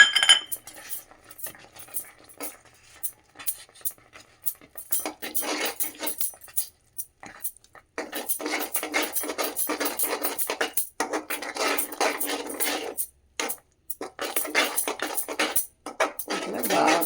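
A spoon scraping and clinking against a pan while garlic paste is stirred for a tomato and red chilli chutney, sparse taps at first, then dense bursts of metallic scraping, close and without talk.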